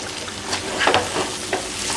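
Vegetables fry in a kadhai for a festive Bach Baras thali, a close, steady crackling sizzle with small spattering bursts and the occasional scrape of stirring.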